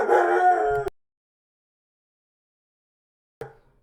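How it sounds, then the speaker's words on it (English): A single dog barks and howls briefly in a home, loud and close, then the room falls silent before a short burst of sound returns. "my dog barked in the background"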